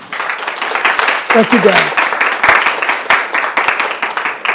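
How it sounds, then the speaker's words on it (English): An audience at a talk about the Houston Recovery Center claps in a moderate round of applause, with a voice speaking briefly over it. "Can we give him a round of applause?"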